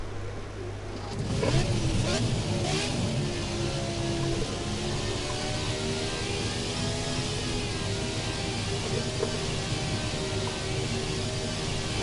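An F1 car engine in the F1 2017 racing video game drones loudly and continuously for about twelve seconds, its pitch climbing and holding in a steady high whine.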